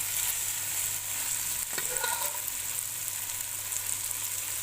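Okra sizzling as it is fried and stirred in a pan, a constant close hiss of hot oil broken by one brief scrape of the spoon partway through.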